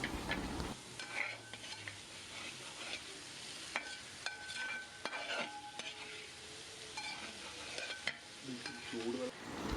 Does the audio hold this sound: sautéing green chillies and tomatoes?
yes